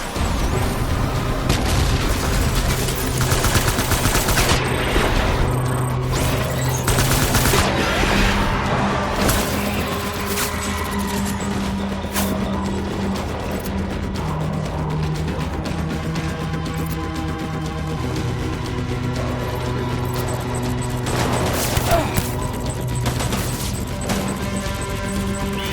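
Gunfire in the video game Death Stranding: repeated booming shots and bursts crash loudly and continuously over a sustained tonal soundtrack, dense and close throughout.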